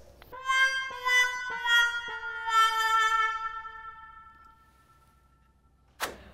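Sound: cartoony sound effects played on a tape instrument with the stem in

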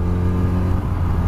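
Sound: Yamaha R1 motorcycle engine while riding

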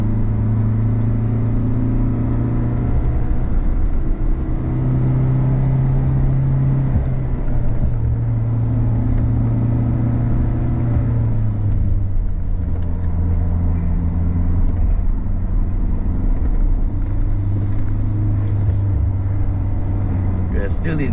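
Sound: Peugeot Landtrek 4x4 pickup engine pulling uphill in third gear

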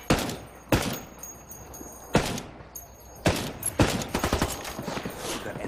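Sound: gunfire in video game Ghost Recon Wildlands Ghost War

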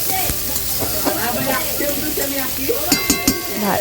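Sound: onions frying in a pan until reddish

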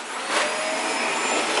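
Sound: vacuum cleaner running

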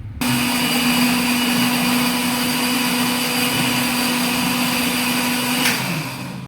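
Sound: mixer grinding biryani masala spices

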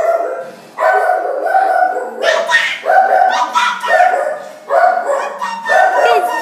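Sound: dog barking

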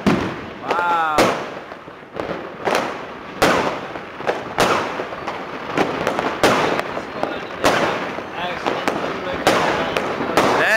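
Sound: fireworks going off on New Year's Eve

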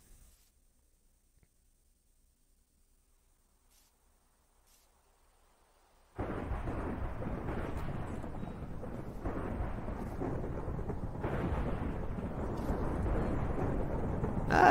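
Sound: thunderstorm in a video game

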